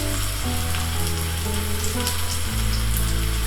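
Chopped onion dropped into hot oil for aloo paratha, a dense, even sizzle close to the pan with a steady tonal backing underneath.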